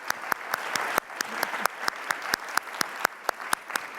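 Steady audience applause at a panel event on water and sanitation, dense clapping with sharp individual claps standing out, moderately loud and continuous without speech.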